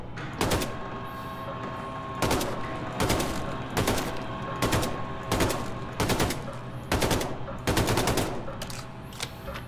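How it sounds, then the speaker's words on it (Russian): Gunfire rings out in the video game Wolfenstein II: The New Colossus as a series of sharp, loud shots at fairly regular intervals, around nine in all, over a low in-game background hum. "Блин, что, 20 секунд еще стрелять?"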